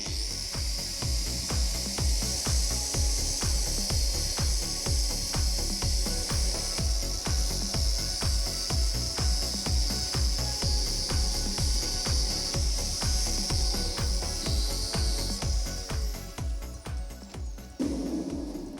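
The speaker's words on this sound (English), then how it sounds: "It's time to split the antlers, and I'm going to do this with the angle grinder." An angle grinder cuts through forged steel antlers in a stag's head sculpture: a loud, continuous high whine with steady rhythmic pulsing, running near and unbroken for most of the stretch before cutting off at the end.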